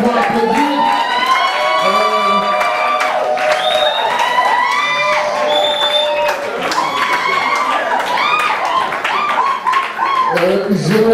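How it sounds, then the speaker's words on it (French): Guests at a surprise birthday party clap amid cheering and lively chatter, the scattered applause mixing with overlapping voices and laughter throughout. "mais si nous pouvons applaudir"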